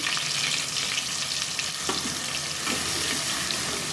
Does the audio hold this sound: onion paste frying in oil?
yes